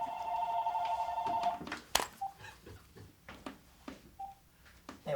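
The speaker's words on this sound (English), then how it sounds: "Of course, the phone's going to fucking ring while we're talking here." A telephone rings in a quiet room, a steady electronic ring tone for about a second and a half, followed by a sharp clunk and a few faint short beeps and handling noises.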